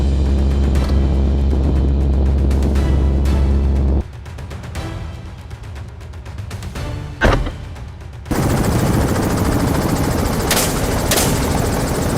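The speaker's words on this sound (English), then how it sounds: "I steadied my rifle and took them both out with pinpoint accuracy." Rifle shots are fired from a helicopter at wild boars, with a steady droning rotor and engine noise broken by a single sharp crack and a few fainter shots.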